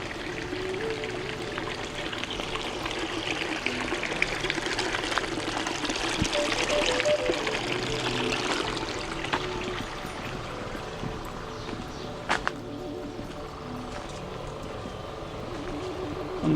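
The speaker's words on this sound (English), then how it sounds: "And the water coming quite strong here." A strongly flowing woodland stream in Buskett, Malta, pours and trickles in a steady, close wash of water that runs unbroken from start to finish, with no talking.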